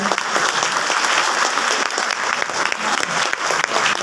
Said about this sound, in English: a big round of applause to our president